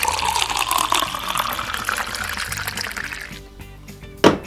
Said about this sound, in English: Time to pour the water in my final Cloudees.